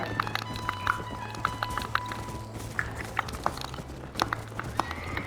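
A horse gallops in Red Dead Redemption with a rapid, steady rhythm of hoof strikes and some clattering tack over a low ambient hum, heard close and moderately loud.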